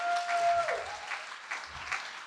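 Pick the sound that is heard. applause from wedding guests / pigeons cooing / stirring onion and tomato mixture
applause from wedding guests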